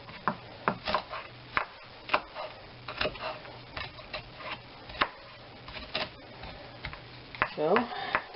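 A knife chopping an onion on a cutting board, a steady series of fairly quiet, crisp taps with uneven spacing, heard close and clear with a brief pause partway through.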